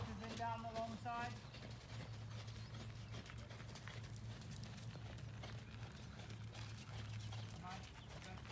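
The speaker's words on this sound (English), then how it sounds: "sitting trot, horses in down the long side" Horse hooves clip-clopping at a sitting trot in an arena, a steady faint rhythmic beat that runs throughout, with a voice and a brief whinny-like sound early on.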